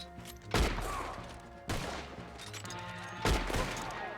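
Three loud gunshots ring out at irregular intervals during a shootout in the Western game Red Dead Online, with a low rumble and background game ambience continuing between the blasts.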